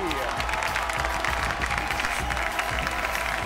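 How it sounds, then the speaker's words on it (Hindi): A studio audience applauds continuously at a Hindi talk show, with a busy wash of clapping and some crowd cheering mixed in, loud and sustained throughout. "आप सबकी बहुत सारी तालियों में please welcome an absolutely extremely lovable हगेबल Nadeem"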